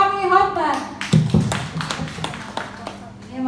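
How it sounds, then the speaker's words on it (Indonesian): Audience clapping at a company event, a scattering of hand claps and taps heard under a voice speaking over it. "Sekali lagi kita tepuk tangan untuk Lami Hoffman"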